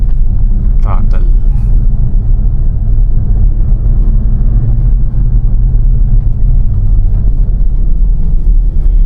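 A Mitsubishi Montero Sport with a manual transmission revs under throttle from inside the cabin as a steady low engine rumble, with someone talking over it.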